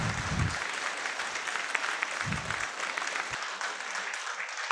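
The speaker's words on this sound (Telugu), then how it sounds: "ఆ కోటీశ్వరులు అనుకున్న వాళ్ళే గట్టిగా చప్పట్లు కొట్టుకుంటారు" Loud, dense applause from a crowd at an office meeting, steady clapping throughout with a few low thumps and crowd noise mixed in.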